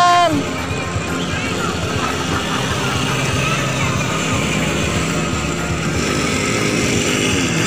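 A kids' mini motocross motorbike engine runs steadily throughout, a close, loud buzzing drone with a slight rise near the start, while people talk over it.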